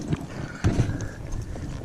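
A ridden horse walking on soft, wet, boggy ground gives a few irregular muffled hoof clops with some rustle, fairly close.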